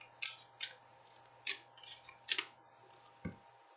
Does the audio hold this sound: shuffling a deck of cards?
yes